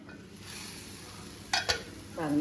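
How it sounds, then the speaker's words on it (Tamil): Carrot and bean curry is stirred in an iron pan over a quiet, constant sizzle, with two sharp scraping strokes midway and a longer scrape of the spatula at the end. "இடையில நம்ம இப்படி பெரட்டி விடணும்"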